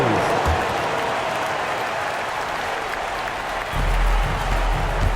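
A simulated arena crowd in an NBA 2K22 basketball game cheers and claps during a T-shirt giveaway, a steady dense roar of applause with a low thump near the end and commentary under it.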